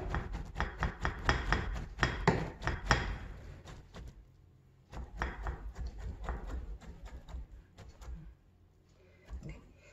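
Rapid knife strokes slicing shiitake mushrooms on a cutting board, a quick burst of close, sharp chopping taps, a pause, then another run of slicing, with kitchen handling noises in between.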